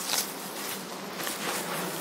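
Honeybees buzz steadily around an opened hive frame holding brood and honey, a dense, even hum close by with no voices over it.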